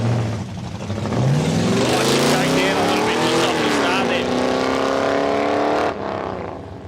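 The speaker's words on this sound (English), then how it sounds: "Sounds like he's out of the gas real early as well" Hot rod drag car at Palmyra Raceway roaring loud and close, engine note climbing through the run, then the throttle snapping shut early with a sudden drop in roar at the end.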